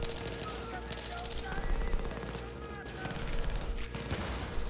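Rapid automatic MP7 submachine gun fire in Battlefield 3, a dense continuous stream of shots that stops and restarts in several bursts, with faint background speech.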